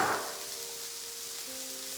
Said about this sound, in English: we're gonna put our onions and peppers on there, and our kale. I'm gonna let those kind of just cook for a minute.